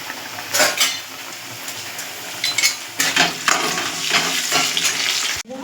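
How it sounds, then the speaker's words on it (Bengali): Potatoes frying in a pan with cumin powder and salt: a soft sizzle underneath, broken by several sharp metal clinks and scrapes of a utensil against the pan. "নুন দিয়ে এর মধ্যে আলুটা ভাজা ভাজা করে নেব।"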